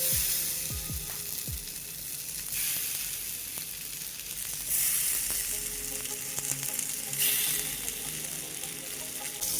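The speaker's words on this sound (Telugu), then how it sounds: "పెనం కాగింది కదా నేను ఇప్పుడు చేప ముక్కలు వేస్తున్నానండి" Fish pieces fry in oil on a hot flat pan, a continuous close sizzle with a few soft knocks as pieces are placed at the start and occasional surges of crackling.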